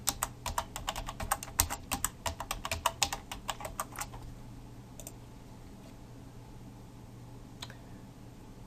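Rapid keystrokes on a computer keyboard enter a WordPress login, a quick burst of clicks for about four seconds, then a quiet room with a couple of isolated taps.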